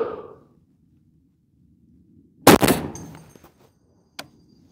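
A single loud, sharp report from a suppressed Barrett M107 rifle cracks out after a quiet stretch and decays with a rumbling tail. A fainter distant impact or echo follows a couple of seconds later.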